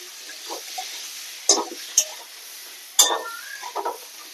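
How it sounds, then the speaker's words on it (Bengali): Coriander and cumin powder are sautéed in a pan, mostly quiet with spatula scrapes and a few sharp metallic clinks against the pan, plus faint soft stirring noises between them, close by with no voices. "এরপর সবগুলো ভালো করে কষিয়ে নেব।"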